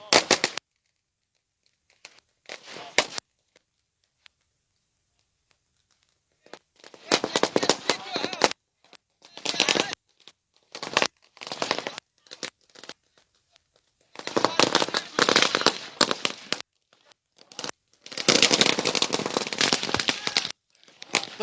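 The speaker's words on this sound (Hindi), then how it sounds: "ये इस आतिशबाजी की आवाज" Firecrackers and fireworks going off outdoors at a student celebration, loud sharp bursts in irregular clusters and long crackling strings, with quiet gaps between volleys.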